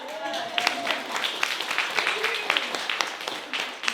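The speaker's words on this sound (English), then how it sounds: "Let's clap." An audience at a live sustainable fashion week event claps for several seconds, a moderate, scattered patter of hands with a voice speaking through it.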